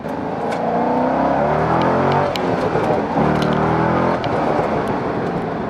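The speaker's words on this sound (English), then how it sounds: "The problem is you go to ring this thing out to hear the exhaust" A C6 Corvette fitted with a Corsa Sport exhaust revs hard and loud, its engine note climbing and falling in steady surges through gear changes across the whole stretch.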